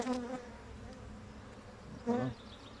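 Honey bees buzz steadily while a shared colony is moved into a new hive and the frames are checked, a continuous close-up drone with two brief louder tonal bursts.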